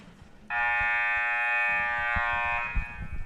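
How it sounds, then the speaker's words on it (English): A loud, steady electronic buzzer sounds for about two seconds over a murmuring crowd at a high school basketball game, then cuts off. "We're just waiting now for the buzzer"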